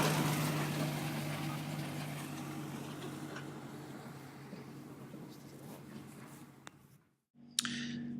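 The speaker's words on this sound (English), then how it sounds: "Mind the tractor, Mark." A tractor engine runs on a hop farm, a steady low hum with a faint rumble that gradually fades as it moves away and then cuts out, followed by a brief different sound at the very end.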